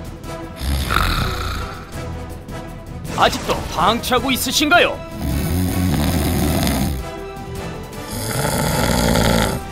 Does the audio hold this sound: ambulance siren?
no